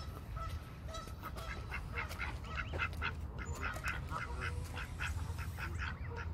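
Geese honking repeatedly at a duck park, their nasal calls coming in an irregular stream at close range over a steady low outdoor rumble, with ducks likely mixed in.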